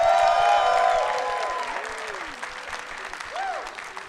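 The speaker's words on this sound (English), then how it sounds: "Can we get one more round of applause for Emily as well?" A live audience in Atlanta claps for Emily, a burst of clapping that fades and then swells slightly again, with faint whistles and cheers mixed in.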